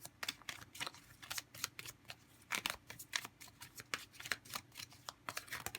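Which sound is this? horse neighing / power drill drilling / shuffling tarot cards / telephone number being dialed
shuffling tarot cards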